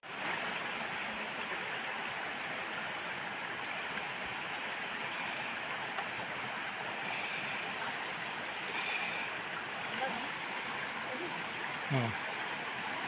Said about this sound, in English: Now we're gonna cross the river. It's already flooding because of the rain.